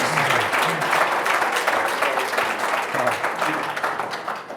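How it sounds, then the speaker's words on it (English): An audience at an agricultural conference session claps loudly and continuously in dense applause, with some voices mixed in. "let's give everyone a big round of applause to the AgSharks"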